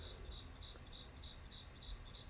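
Crickets chirping at night, faint and steady, with pulsed trills repeating in an even rhythm over quiet background, no voices.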